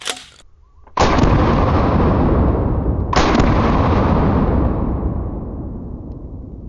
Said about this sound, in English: you'll see when I shoot it that it is a very powerful birdshot